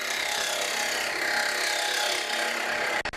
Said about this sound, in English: Start the lathe up again and continue with the cuts.